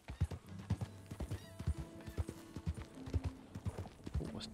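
Rhythmic horse hooves clip-clop steadily on a hard surface at a walking pace in Red Dead Redemption 2, close and clear, with faint tonal game sounds in the background.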